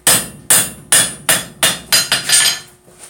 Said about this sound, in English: And you're just hammering in your shop.